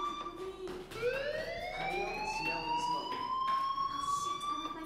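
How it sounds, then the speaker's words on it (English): A rising electronic fire alarm tone in the video game Life is Strange sweeps upward and holds steady, loud and continuous, with synthetic game-like sound effects around it. "do you hear that fire alarm?"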